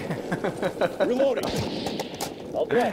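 Gunfire in Call of Duty Warzone Rumble mode: sharp, repeated shots crack through the mix while someone talks excitedly over them.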